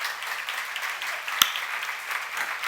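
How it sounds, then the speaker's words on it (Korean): A church congregation claps along during a sermon, a soft, steady wash of hand claps with one sharper clap standing out near the middle, fairly quiet and distant. "박수 좀 세게 쳐."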